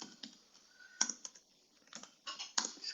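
Keys clack on a computer keyboard in short irregular bursts, a few sharper strokes standing out between quieter taps, close and alone in a quiet room.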